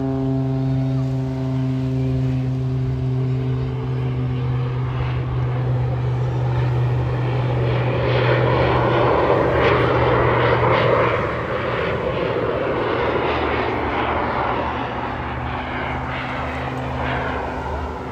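A Pitts Special aerobatic biplane performing at a seaside airshow with smoke on, its engine droning in a loud, sustained, slightly wavering tone that swells and shifts pitch as the aircraft maneuvers nearby.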